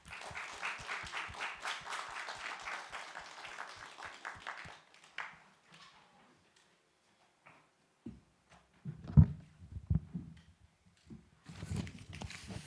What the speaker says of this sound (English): give a little round of applause to open up for our speakers today